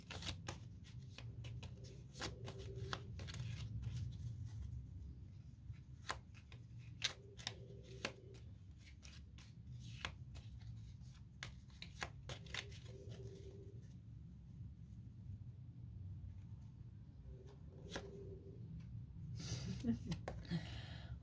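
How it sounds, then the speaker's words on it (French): Oracle cards being shuffled and drawn by hand, quiet repeated riffles and snaps spread through the clip in bursts, close and faint under a low room hum. "on va se prendre une petite carte de l'oracle des amoureux"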